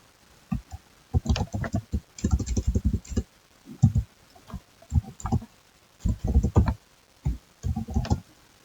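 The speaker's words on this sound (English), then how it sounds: "So let me type buffer" Bursts of computer keyboard typing, close and fairly loud, come in several quick clusters with brief pauses between them, as someone keys in a database parameter name.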